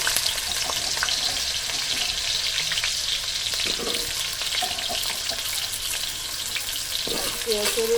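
Potatoes fry in hot mustard oil for a jackfruit kalia, making a loud, steady hissing sizzle up close with occasional faint clinks and a brief bit of background voice.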